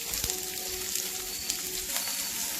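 Green chillies and onion sizzle quietly in a hot pan, a soft steady frying crackle with a few small pops and stirring scrapes, no voices.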